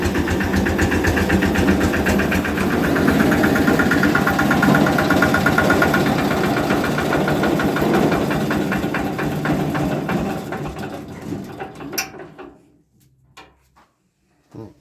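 A Benford LS concrete mixer engine idles while warming up, a steady close mechanical chug with rhythmic knocking that runs evenly, then sputters, fades and cuts out to silence near the end.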